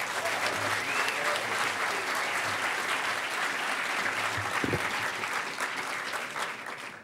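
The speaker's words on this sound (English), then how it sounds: "Give him a huge round of applause." A large hall audience applauds loudly and continuously at the Hackers On Planet Earth 2012 closing ceremony, the clapping dense and sustained before easing off at the end.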